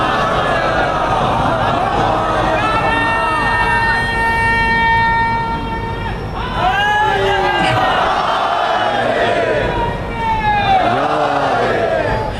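A large congregation at a Shia majlis recites salawat together, a loud sustained chorus of many voices rising and falling in unison, with long melodic swells filling a reverberant gathering hall.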